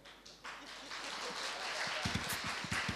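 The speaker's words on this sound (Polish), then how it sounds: "pokażcie nam, że można klaskać." A church congregation begins clapping, a steady ragged patter building after a brief pause, with voices and singing rising underneath.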